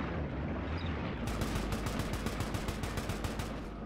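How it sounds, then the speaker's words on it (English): A bomb blast in the World War II setting of the video game Arma 3, heard as a dense, loud burst of rapid, repeated cracks like heavy gunfire over a continuous roaring rumble. "That's a bomb."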